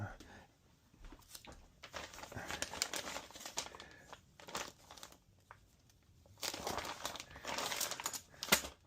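Packing tape crinkles and rips in bursts as a shipment is packed, with uneven rustling and tearing throughout and a person talking in between.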